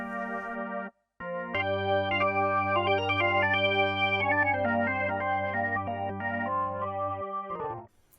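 A dry Hammond B3 organ sample loop plays sustained chords with a steady low bass note and shifting upper harmonics, loud and close with no reverb, after a brief opening note and gap.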